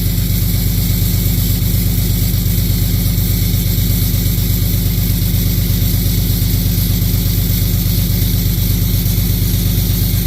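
A warmed-up 2014 Ram 6.7 diesel idles loud and close with a steady, rhythmic clatter, its RPMs kicking up slightly while it keeps running evenly throughout.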